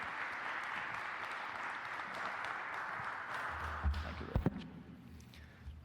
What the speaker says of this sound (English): Can you join me in giving them a round of applause for their input?